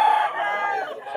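Rooster at a pet market in Bulacan, a short, loud, close crow or cluck lasting about a second.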